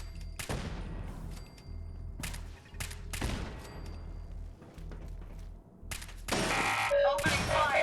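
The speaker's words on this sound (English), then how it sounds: "Opening fire." Gunfire crackles in Fallout 4 survival mode, several sharp shots in quick bursts spaced across a few seconds, followed by a dense rattling volley near the end, moderately loud against a low game hum.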